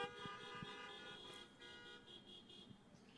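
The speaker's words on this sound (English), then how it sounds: "I think those are honks for Trump." Car horns honk outside a political conference hall, heard faintly as sustained and overlapping toots under a low room murmur.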